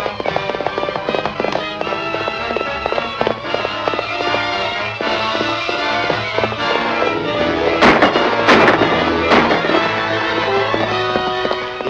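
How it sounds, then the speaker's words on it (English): Gunfire in a 1942 adventure film serial crackles over a busy, dense old soundtrack, with sharp bursts of shots and clatter clustering loudest toward the latter part. "After Patan passes, open fire"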